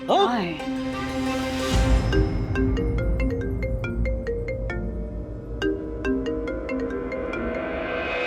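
A phone ringing in a household scene from a TV comedy, playing a melodic ringtone continuously for several seconds with voices alongside it.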